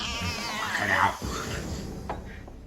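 A cat on a TV show lets out a drawn-out, wavering meow that rises and falls, close and clear, with faint background sound from the show.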